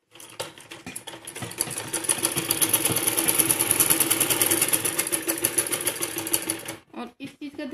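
An electric sewing machine runs a steady fast stitch on a salwar for about seven seconds, loud and close, then stops abruptly, leaving a few faint handling clicks.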